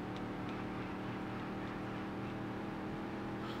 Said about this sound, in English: Engines running rough?